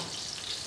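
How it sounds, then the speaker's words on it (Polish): Food deep-frying in a large amount of fat gives a dense, steady hiss of sizzling bubbles, close and continuous through a brief moment. "jak z każdą rzeczą smażoną w dużej ilości tłuszczu"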